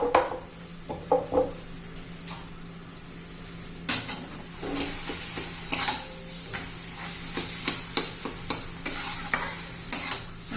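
Fresh green pea batter being mixed in a pan with gram flour, repeated close scraping and tapping of a spoon against the pan over a light sizzle, in irregular strokes.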